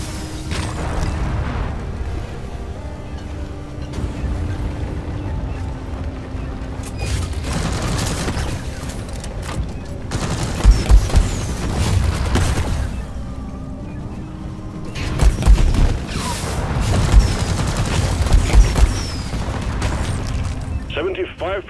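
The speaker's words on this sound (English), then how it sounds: "Sticky, sticky grenade noise" Sticky grenades going off in Deep Rock Galactic, a run of loud, sharp booms in clusters over continuous gunfire and game noise, with a voice talking in between.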